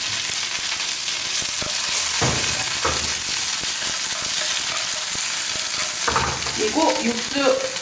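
Shiitake, button mushrooms and bamboo shoots stir-frying in a hot wok for braised tofu, a steady close sizzle with scraping and tossing knocks and a few sharper clatters near the end, no one talking.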